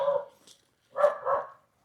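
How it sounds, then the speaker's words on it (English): A dog barks a few times nearby, one short bark and then a louder double bark after a pause, with quiet in between and no talk. "Got my dog over there barking, sorry."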